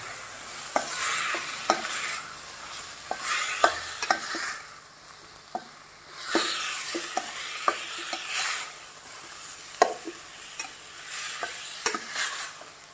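Spoon stirring breadfruit caldine, a Goan coconut curry, in a pan: repeated scraping strokes and sharp clinks against the metal, in an irregular rhythm over a soft sizzle, close and moderately loud, with no talking.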